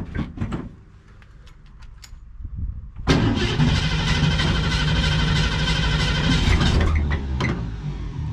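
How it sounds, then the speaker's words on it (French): A 1967 Ford Mustang engine cranks and catches, bursting into a loud, steady idle close by after a few seconds of quiet clicks and shuffling during restoration work. "On démarre au quart de tour."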